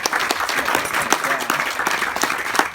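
Wedding guests clap during a speech at the reception, a lively, dense round of applause with distinct hand claps, and a voice talks over it.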